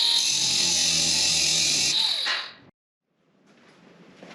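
A garage door hoist chain being cut with a power tool: a loud, steady grinding whine runs for about two seconds, tapers off into silence, then faint rustling returns.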